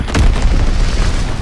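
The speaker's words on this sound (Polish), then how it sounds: "Nadlatuje bomba wroga! Kryć się!" An enemy bomb detonates in the World War II shooter Call of Duty WWII, a loud, close boom with a rumbling low tail that lingers through the short moment, no voices over it.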